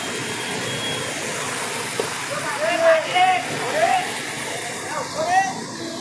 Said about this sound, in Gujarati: ધમાકેદાર વરસાદ વરસી રહ્યો છે કડાકા ભડાકા સાથે વરસાદ વરસી રહ્યો છે